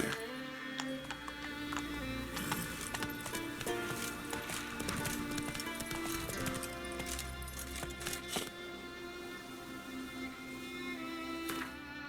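Roach the horse's hooves clip-clop at a steady running gait across Skellige Islands in The Witcher 3, with faint clinks and an occasional snort over a constant game backdrop, no talking.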